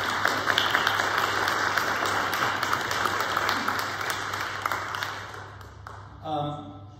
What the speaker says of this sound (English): So maybe we should give a little round of applause for Colleen.